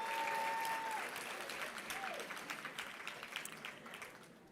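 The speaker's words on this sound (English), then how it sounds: "let's clap for our teens" Loud applause from an audience at a national childcare convention, clapping for teens, starts strong and gradually thins and fades, with a voice briefly heard over it.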